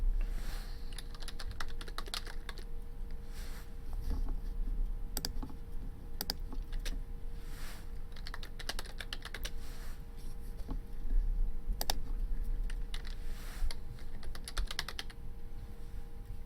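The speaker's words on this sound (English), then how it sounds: "Normally I don't speak while I'm typing." Fast, steady keystrokes clatter on a computer keyboard, close and continuous, with irregular bursts and occasional heavier key clicks over a low hum.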